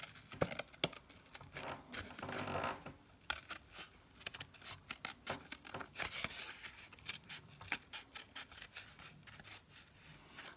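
Scissors cutting embossed paper card for a butterfly card, trimming close to the shiny embossed edge, with a long series of quick, close snips and soft paper rustles, the paper being turned as the cut goes on, with no talking.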